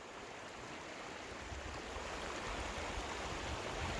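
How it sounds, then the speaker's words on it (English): Lydell Creek, a small mountain stream near Big Bear Lake, California, rushes in a continuous, broad watery hiss, faint and steady, with no voices. "So I decided to come down and show you guys how beautiful this little creek is."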